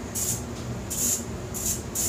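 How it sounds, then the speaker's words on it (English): WD-40 is sprayed onto a cylinder head during carbon cleanup, four short close hissing bursts in an even rhythm, each about a third of a second, with no talk. "I'm going to spray the cylinder head down with this WD-40"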